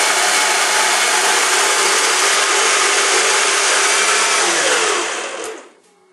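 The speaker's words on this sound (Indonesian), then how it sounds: "Kedelai yang sudah di blender" A blender whirs steadily at full power while grinding soaked soybeans into a milky liquid for tofu, a loud continuous roar that winds down and stops near the end.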